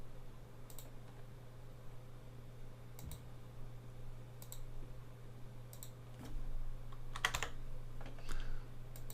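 Keys clack on a computer keyboard in short bursts of quiet clicks with pauses between them, heard close in a calm room.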